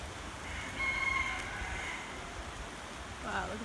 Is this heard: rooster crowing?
yes